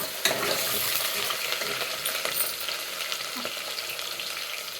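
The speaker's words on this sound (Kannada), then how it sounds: "ಗೋಲ್ಡನ್ ಬ್ರೌನ್ ಕಲರ್ ಆಗೋವರೆಗೂ ಫ್ರೈ ಮಾಡ್ಕೊಬೇಕು" Onions for sambar frying in a pan toward golden brown, a steady dense sizzle with occasional stirring scrapes, close and continuous with no talking.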